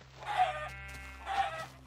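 Chicken in the Minecraft video game, two short clucking calls about a second apart, clear and close over a steady low game hum.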